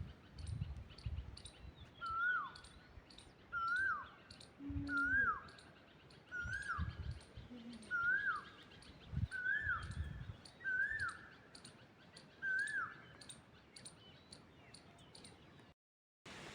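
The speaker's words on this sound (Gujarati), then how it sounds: "મિત્ર ઉનાળો ચાલુ થઈ ગયો છે એટલે નગરા પક્ષીને કોયલું જ બોલે છે." Asian koels calling in summer, a repeated series of rising whistled notes about every one and a half seconds, clear and fairly near over low background rumble and occasional thumps, with no talking.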